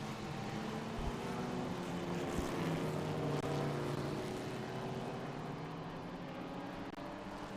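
Race car engines roar at the Mid-Ohio SpeedTour vintage race, a group including a Ford Capri, heard as a broad, steady, distant drone of multiple engines with a low rumble and slowly shifting pitch.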